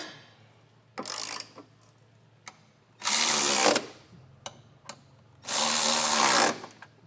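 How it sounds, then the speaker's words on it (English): Carriage bolts and upper bolts of a Curt Class I trailer hitch being snugged on a 2025 Toyota Camry with 3/4 inch and 13 millimetre sockets: three loud, harsh buzzing bursts of a powered driver separated by small clicks and clunks. "we'll snug these with a 3/4 inch socket for our carriage bolts, and then a 13 millimeter socket for these upper bolts"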